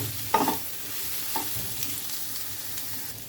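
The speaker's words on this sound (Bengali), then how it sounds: "এবার সয়াবিনগুলো ভালো করে ভেজে নিতে হবে।" Soybean chunks fry in a pan with a continuous crackling sizzle, broken by a few louder scraping stirs of a spoon, close up and without voices.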